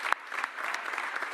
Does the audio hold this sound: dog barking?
no